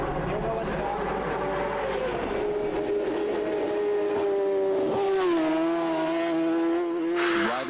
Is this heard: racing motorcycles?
yes